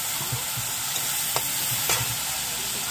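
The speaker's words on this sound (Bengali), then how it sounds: "আমাদের কাঁচা লঙ্কাটা ভেজে নিই।" Green chillies frying in oil with cumin, a continuous bright sizzle close by, broken by a couple of short scraping stirs, with no voices.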